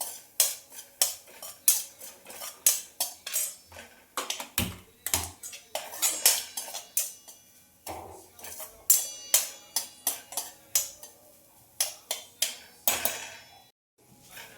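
Semolina roasts in a pan while a utensil stirs and scrapes it, making a quick series of sharp metallic clinks and taps in irregular bursts with brief pauses, close by.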